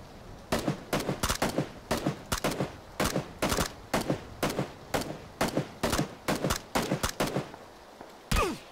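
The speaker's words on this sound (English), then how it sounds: "let me take a shot. I have a suppressor." Suppressed gunfire in PUBG: a long run of sharp, muffled shots fired in quick bursts and single taps, close and fairly loud, with no talk over them.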